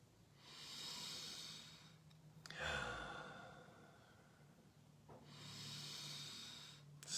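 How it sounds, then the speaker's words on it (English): Slow, deep relaxed breathing during a guided relaxation session: two long, soft inhale-exhale cycles, close and quiet, with a hushed pause between them and no talking. "Still breathing relaxed, breathing more fully at the same time."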